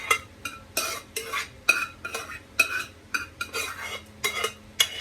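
Minced meat is stirred in a pan for macaroni béchamel, with repeated rhythmic scraping and clinking strokes of a utensil against the pan over a low sizzle, close and fairly loud.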